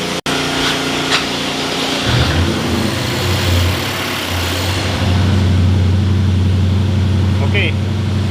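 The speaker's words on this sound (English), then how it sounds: "let's start the engine." A BMW N63 V8 engine cranks over, catches and settles into a steady, close idle, a continuous mechanical drone following an initial sharp click.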